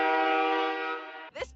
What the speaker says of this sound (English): I will blare the train whistle for all to hear.